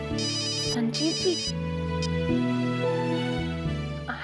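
A mobile phone rings with a loud melodic ringtone, a steady sequence of synthesized notes playing continuously, with a brief voice heard over the ringing.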